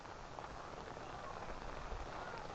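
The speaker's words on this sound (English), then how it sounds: "It is raining." Steady rain falling outdoors on a grassy area on a cold rainy day in Tanzania, a dense, even hiss that holds constant throughout with no clear pauses.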